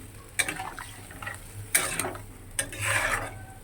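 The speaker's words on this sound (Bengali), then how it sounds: "তো চলো কষিয়ে নিই" A metal spoon scrapes and clatters in a pan of katla fish curry with potatoes and taro, giving a few sharp strokes over a soft, steady sizzle, close and moderately loud with no talk.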